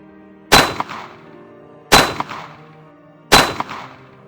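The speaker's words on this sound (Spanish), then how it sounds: "3 disparos se escucharon y Humberto cayó sobre sus rodillas abatido" Three evenly spaced gunshots ring out as a dramatic audiobook sound effect. Each is a loud, sharp crack followed by a brief metallic echo and a decaying tail, about 1.4 seconds apart.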